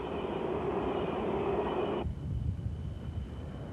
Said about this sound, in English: These trains take the coal all over America to power stations and other coal users.